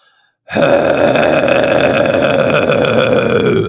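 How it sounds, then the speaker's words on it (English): A harsh, gritty false chord scream bursts in after a brief silence and holds steadily, loud and close, rough and raspy throughout. "a scream that involves flapping your vestibular folds to get a sound like this."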